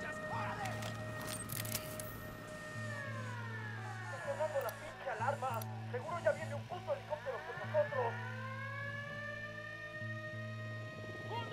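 Alarm siren in Ghost Recon Wildlands sounding at an enemy camp, a steady droning tone with rising and falling wails, mixed with scattered crackling gunfire in the middle.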